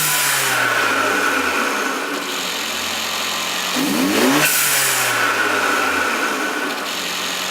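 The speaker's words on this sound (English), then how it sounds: "So we're gonna start it up and hear that turbo blow-up valve." Mercedes CLA 45 AMG with a 3-inch inlet and ECU piggyback, its engine running loud and close, revving up and down in sweeping pitch bends with a brief burst midway, a continuous mechanical drone and no speech.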